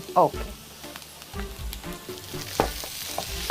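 Beef hitting a lightly oiled pan for Turkish pasta, crackling sizzle with stirring scrapes and a few sharp clinks, close by, with brief voices.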